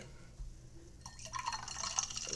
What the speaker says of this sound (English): Go ahead and pour me a glass